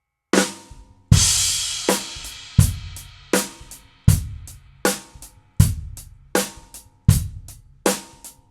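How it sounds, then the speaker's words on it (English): A drum kit plays a run of strikes, each combining a bass drum thump with a bright crash cymbal that rings out and decays before the next. The hits land loud and close in a steady, evenly spaced pattern. "we'll have a bass drum with a crash cymbal on beat 1 of the next bar"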